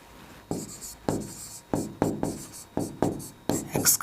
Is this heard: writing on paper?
yes